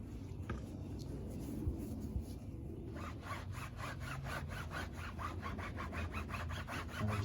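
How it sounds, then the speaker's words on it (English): A rag scrubs vigorously back and forth over the rubber of a car tire to strip old browned tire shine, giving a close, steady rhythmic rubbing that grows more regular partway through. "we're just going to vigorously scrub the rubber"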